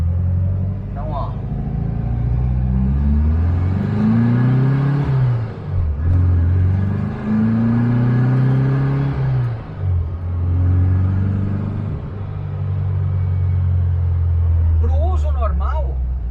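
Close, loud rumble of an air-cooled Volkswagen Fusca 1600 engine revved up and down repeatedly, with pitch rising and dropping in several sweeps. A voice is heard briefly near the end.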